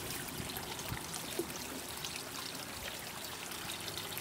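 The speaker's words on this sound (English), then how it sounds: "You got that bubbling water sound right at the top, and then you got the pouring sound down through the bowls" A cascading water fountain of square bowls with a shimmering metallic finish bubbles at the top and pours down through the bowls in a continuous, even rush of trickling water, close and steady with no voices.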